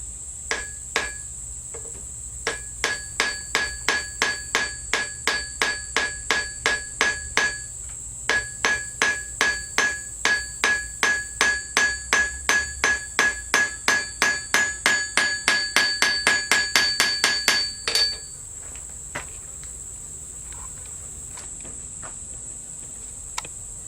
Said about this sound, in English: just going to hammer another bolt on there